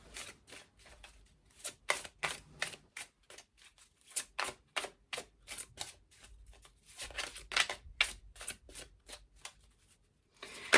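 Slippery Elemental Oracle cards being shuffled, a rapid run of crisp riffling bursts in quick irregular rhythm, close and clear with no talking.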